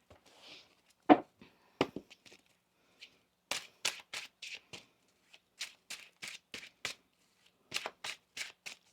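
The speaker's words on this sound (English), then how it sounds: "get one more shuffle here." A deck of tarot cards is shuffled close up: a series of crisp riffles and flicks in irregular bursts, with quiet gaps between them.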